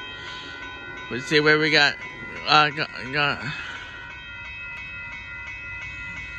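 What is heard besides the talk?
Union Pacific mixed freight train approaching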